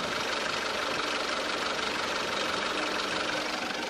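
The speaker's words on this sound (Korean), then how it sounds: "바로 엔진 소리 한번 들려드릴게요." A 2018 SsangYong G4 Rexton four-wheel-drive full-size SUV idles with its hood open, a steady, even engine hum filling the whole stretch with no speech over it.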